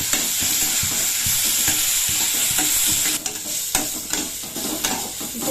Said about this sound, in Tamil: இந்த பச்சை வாசனை போகிற அளவுக்கு தோலை வந்து நல்லா வதக்கிடணும்.